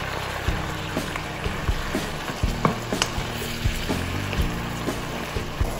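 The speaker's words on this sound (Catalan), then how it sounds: "I ara es tractarà d'anar-los remenant tota l'estona." Spinach sautés in a pan with a steady sizzle as a utensil stirs it, producing repeated scraping and clattering knocks over the frying hiss.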